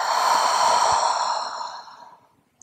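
A long, steady exhale during morning yoga breathing, a close breathy rush that holds strong and then slowly tapers away to silence, with no talking.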